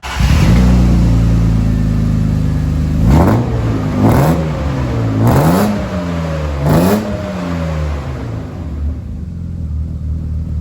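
A BMW E36 engine with an E46 M3 quad-tip exhaust idles with a deep rumble in a small garage, then revs sharply four times in quick succession, loud and close, before settling back down.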